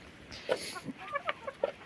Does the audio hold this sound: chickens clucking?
yes